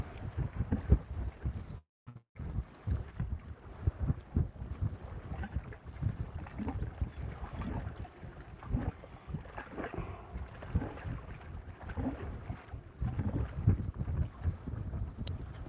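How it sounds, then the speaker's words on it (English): Strong gusty wind blowing across an open lake, rumbling and buffeting steadily and loudly near the microphone with a short dropout, no talking. "God, that wind kicked up something fierce."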